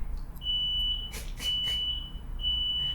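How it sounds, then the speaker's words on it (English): An apartment smoke alarm set off by cooking sounds off with repeated high, piercing beeps over a low hum, loud and steady with no voices. "Can you guys hear the fire alarm?"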